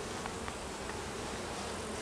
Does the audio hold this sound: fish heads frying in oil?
no